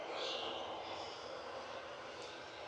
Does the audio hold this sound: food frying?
no